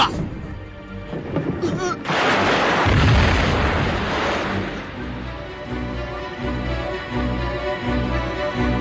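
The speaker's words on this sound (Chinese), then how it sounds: "快爆炸了！" A loud, deep explosion in a martial arts film bursts out about two seconds in. A heavy rumbling roar follows and slowly fades under rhythmic low pulsing, with no talking.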